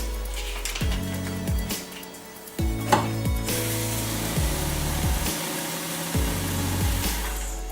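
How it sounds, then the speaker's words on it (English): A Paras desktop bundle note counting machine counts banknotes, its motor whirring loudly and close in repeated up-and-down pitch sweeps, with a few clicks and no talk. "It counted, the note were 97 and the flap is released."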